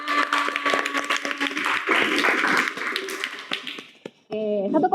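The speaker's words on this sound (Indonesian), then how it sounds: "Beri tepuk tangan." A classroom audience claps after a group presentation, a fairly loud burst of mixed clapping that thins out toward the end, with voices heard alongside it.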